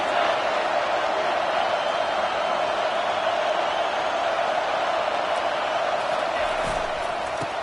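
A roaring NCAA football stadium crowd cheering on third down, a loud wall of noise holding steady from start to finish, with a commentator talking over it.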